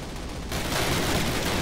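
Gunfire in the shooter game Call of Duty: after a brief quieter lead-in, a sudden dense burst of rapid automatic shots erupts and continues as a loud, sustained rattling barrage with no voices.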